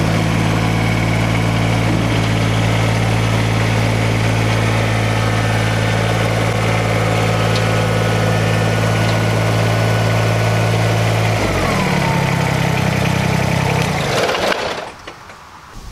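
A 2,200-pound BX subcompact tractor's engine idles loudly and steadily up close while driven onto a 16-foot trailer, its pitch shifting partway through before it cuts off near the end.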